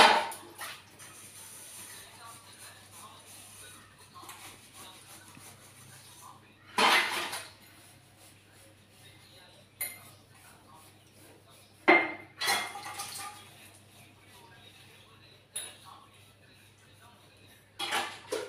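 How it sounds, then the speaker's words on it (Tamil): Dishes, pots and cutlery are washed in a home kitchen: intermittent clattering and clanking of metal and crockery in separate bursts, with quieter handling and rinsing sounds between them. "பாத்திரம் கழுவிடலாம்."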